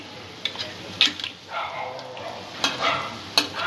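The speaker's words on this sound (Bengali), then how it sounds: "আমি পকোড়াগুলো মিডিয়াম লো ফ্লেমে এইভাবে ভেজে নিয়েছি" Egg pakoras frying in oil on a medium-low flame, a soft continuous sizzle broken by a few sharp clinks and scrapes of a utensil in the pan, close by.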